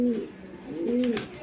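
Two young pigeons of a bloodline kept for sale coo close by, repeated soft rising-and-falling calls running through the whole short stretch with no talk over them.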